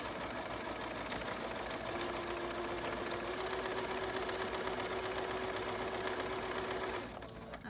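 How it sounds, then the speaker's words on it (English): A sewing machine runs steadily, back stitching elastic onto a fabric face mask, with a continuous close mechanical whir that holds for about seven seconds and then stops near the end. "You're going to go over it and then back stitch."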